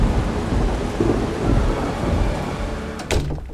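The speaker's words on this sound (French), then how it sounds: "Vous entendez cette tempête qui gronde?" A thunderstorm with heavy rain roaring steadily and low rumbling thunder throughout, loud and close, with a sharper crack near the end.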